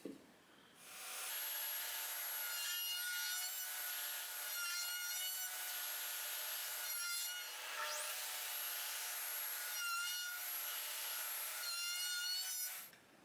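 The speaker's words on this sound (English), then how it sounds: "The last bits I'll be taking with a router bit radius" A router with a radius bit shapes the edges of a 2x4 for a wooden chain, giving a loud, steady high-pitched whine with rough wood-cutting texture that swells and dips over about twelve seconds.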